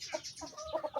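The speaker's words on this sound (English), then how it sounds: "That is a rooster right there. A big, big rooster right there." A big rooster on a chicken farm clucks in several short, close, low-pitched bursts, the last three coming in quick succession.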